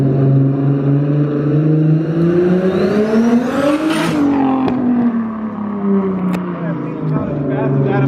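Twin-turbo Nissan 370Z engine revving hard, loud and close, pitch climbing then dropping with a sharp peak near the middle, under steady cabin noise; people talk over it.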